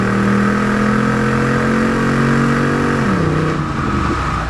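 A 1997 Pontiac Firehawk's 5.7-litre V8 revs hard and steady under acceleration, a deep throaty drone that shifts pitch near the end as it eases off.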